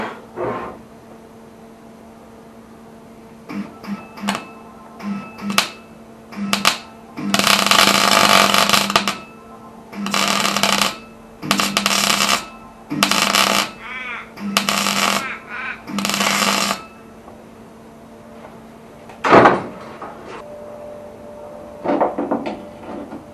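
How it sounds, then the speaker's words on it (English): Light, sharp screwdriver taps on clamped Holden Torana UC cowl panels during rust repair, a string of distinct knocks, some rapid and some spaced, with someone talking before and after. "just go around it with a screwdriver and then just give it a tap"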